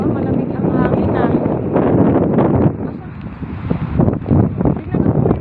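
Cool outdoor wind in Bahrain buffets the microphone in loud, gusty rumbling bursts that ease briefly midway, with rustling over it.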